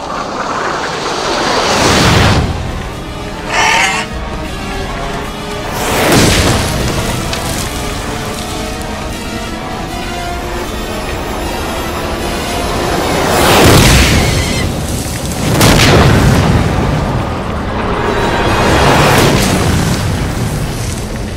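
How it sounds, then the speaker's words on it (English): Deep booms from a volcanic cinder cone eruption hurling lava bombs and boulder-sized fragments, several heavy rumbling blasts spaced apart over a continuous roaring, wind-like background. "New pulse from the cinder cone launches a bombardment of boulder-sized lava fragments and a barrage of lava bombs."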